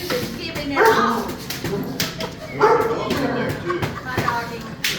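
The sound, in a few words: dog barking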